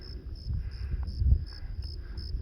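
Many crickets chirp in steady, evenly spaced pulses, echoing off surrounding sandstone hills along a desert trail, with a low rumble of wind or movement underneath.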